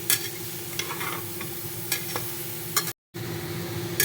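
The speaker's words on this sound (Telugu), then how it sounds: "ఒక 2 మినిట్స్ వరకు ఫ్రై చేసుకోవాలి" Soya chunks fry in a pan for pulao, with a steady soft sizzle under a few sharp scrapes and clinks of a spoon stirring, close and moderately quiet, with no talking.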